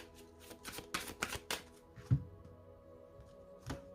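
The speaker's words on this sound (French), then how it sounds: "On va poser les cartes pour les 3 décans." Tarot cards are shuffled and dealt in a quiet room: a few quick riffling bursts, then soft slaps and slides as cards are laid down, faint and close, with no voices.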